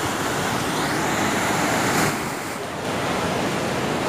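Sea waves at a beach, a loud, continuous roar of broken surf that swells and eases slightly midway, with wind buffeting close to the microphone.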